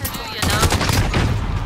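Modern Warfare gunfire opens in a short burst, then rapid loud shots crackle in a sustained automatic stream for over a second, close and harsh.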